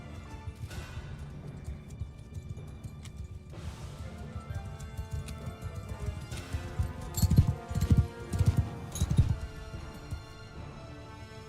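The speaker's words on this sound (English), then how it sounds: "They're putting all of their horses on one side." Cavalry horses moving in Mount & Blade 2 Bannerlord, a dense rumble of hooves and battle clatter that builds into louder thumping impacts partway through, with no talking.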